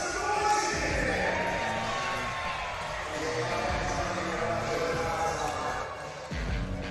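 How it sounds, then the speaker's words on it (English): Steady roar of a crowd in an arena before tip-off of an NBL basketball game between the Adelaide 36ers and South East Melbourne Phoenix, with a commentator talking over the continuous wash of noise. "the crowd noise is way too loud"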